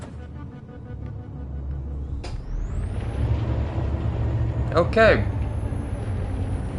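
A truck in the video game Detroit: Become Human, a low idling rumble with a sharp air-brake hiss near the middle and a rising squeal later, under a brief spoken word.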